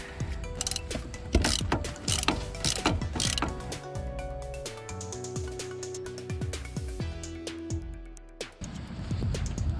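A ratchet spins a wheel hub bolt loose on a Chevrolet Tahoe in a garage, with a rapid, close clicking pawl in repeated bursts, metallic clanks, and a wrench being worked between pulls.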